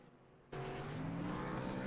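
Sim racing cars in a video game roar off pit road at an oval road course, a sudden loud surge of engine noise after a quieter start, then sustained close engine drone with rising pitch.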